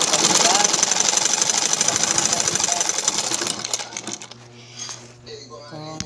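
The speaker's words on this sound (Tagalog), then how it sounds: "Nagtatahi ng mga short, mga pag-vlog." A sewing machine stitching shorts whirs in a fast, steady mechanical rattle up close, then stops, leaving softer handling clicks while a person talks.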